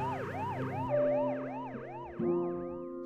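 An ambulance siren wails in a fast, repeating rise-and-fall pattern over a steadier engine drone. It is fairly close and clear, with no talking.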